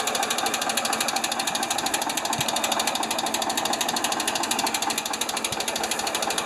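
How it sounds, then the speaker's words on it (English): A Ford 2600 tractor engine idles close by with a clattering valve, a loud fast, even mechanical ticking that carries steadily through the whole stretch. "Sounds really good, except for that clattering valve."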